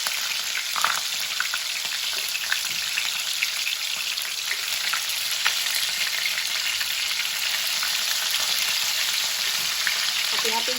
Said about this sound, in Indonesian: Goreng-goreng tahuna nepi garingnya